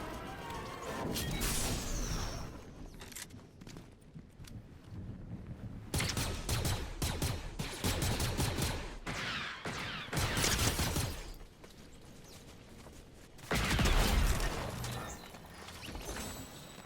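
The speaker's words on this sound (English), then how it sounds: "I don't know why this kid is still shooting me." Scattered gunshots and clattering action in Fortnite (Chapter 6 Season 3, Star Wars season), coming in uneven bursts separated by quieter gaps, mid-distance and moderately loud.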